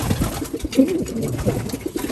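A checkered racing pigeon coos nearby in a loft, soft throaty rolling calls repeating in a low rhythm over faint background noise.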